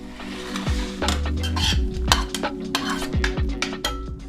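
Ground beef breaks apart and gets stirred in a pan, close and busy, with sharp scrapes and clinks of a utensil against the metal over a low sizzle.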